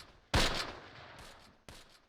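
Gunfire in the WWII tactics game Close Combat: two sharp distant shots, the first louder with a fading echo tail, the second quieter about a second and a half later.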